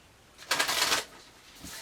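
Oracle cards being shuffled for an Aries reading, a brisk riffle of papery flutter for about half a second, then a softer, fainter shuffle trailing off near the end; close and fairly quiet with no talking.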